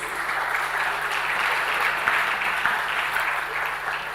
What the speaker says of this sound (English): Can we have a big round of applause, everyone, please?